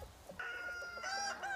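Hens and roosters on a biodynamic egg farm cluck and crow together, a rooster's crow rising clearly over steady nearby clucking from the flock.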